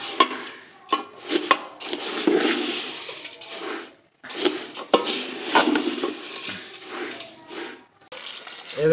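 A jaggery mixture for marunda, a puffed-rice sweet, stirred quickly in a pot: close, irregular scraping and swishing strokes with brief pauses between bursts of stirring.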